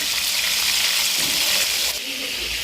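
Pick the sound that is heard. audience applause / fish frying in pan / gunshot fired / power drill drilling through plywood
fish frying in pan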